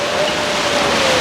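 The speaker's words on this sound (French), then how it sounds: "La pluie ne nous arrêtera pas" Rain falls steadily during an outdoor fashion show at Bras-Panon, a dense even hiss held close and loud with no voices.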